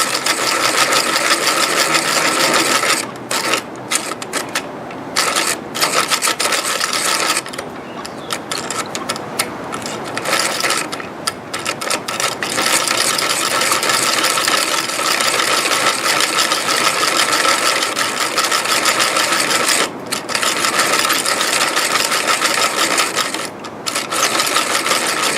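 A hand-cranked pencil sharpener shaving a carpenter pencil gives a steady whirring, ratcheting grind that runs for about twenty-five seconds, with short pauses between cranking spells.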